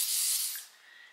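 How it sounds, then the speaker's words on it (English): A sunscreen spray bottle releases a single close, bright hissing mist burst of about half a second, fading into a faint tail. "you can just spray it across your face"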